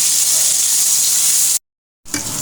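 Onions fry in a pan with ginger garlic paste, giving a loud, close, steady hiss that cuts off abruptly to silence and then resumes briefly.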